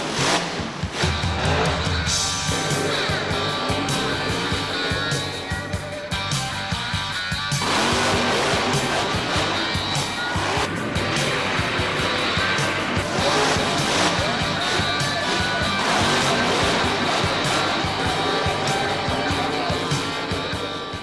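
Grave Digger monster truck roars through a freestyle run, loud engine revving and surging continuously with tire noise and crowd din, voices mixed in.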